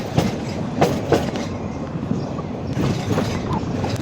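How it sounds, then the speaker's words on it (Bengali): A Narayanganj commuter train runs along a 150-year-old line between Shyampur and Pagla stations in Bangladesh. A steady, close rumble of wheels on rail continues throughout, with a few sharp clicks early on. "এই যে এখন আমরা শ্যামপুর রেলওয়ে স্টেশন ছেড়ে পাগলা রেলওয়ে স্টেশনের দিকে চলে আসছি"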